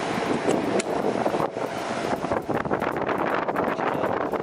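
An air conditioner's fan runs just after the unit starts up, giving a steady, loud rush of blowing air with a few faint clicks and rattles, and no voices.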